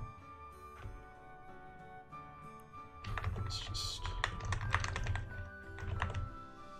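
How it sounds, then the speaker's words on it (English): Clacky computer keyboard keys pressed during a livestream, with sparse taps at first and then a dense burst of rapid, close clattering keystrokes. "I do apologize if my keyboard is noisy."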